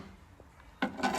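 Abrasive rasping on rotten steel of a Vauxhall Astra car body being cleaned and prepped for welding, starting abruptly after a quiet stretch and continuing loud and steady, close up.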